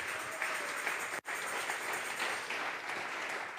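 Applause from a church congregation during a Tuesday Bible study, a steady broadband wash of clapping lasting several seconds with a brief dip partway through.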